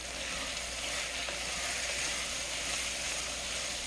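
Ingredients for a lamb stew fry in a pan while being stirred, making a steady, soft, broadband sizzle with faint scraping, close by and with no voices.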